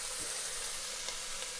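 Bacon fries in a pan for venison chili, a steady, fairly quiet sizzle and hiss with a few faint crackles.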